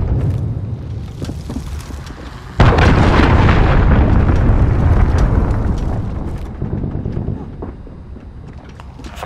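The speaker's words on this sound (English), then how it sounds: "Enemy cruise missile." A cruise missile explosion in Call of Duty: Modern Warfare, a sudden loud blast that erupts after quieter battlefield noise and rumbles on for several seconds as it slowly fades.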